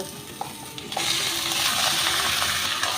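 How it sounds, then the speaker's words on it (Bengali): Mutton pieces sizzle and fry with onions in a hot pan, a steady close crackling hiss that swells after a second, with light scraping of stirring and no voices. "এবার এই পেঁয়াজের মধ্যে দিয়ে দেব মাংস"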